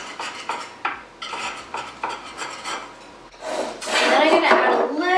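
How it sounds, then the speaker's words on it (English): A knife scrapes around the edges of mini red velvet lava cakes in ramekins, giving close, repeated scraping and clinking strokes against the dishes that grow louder toward the end. "Just gonna run your knife around the edge of the little cakes."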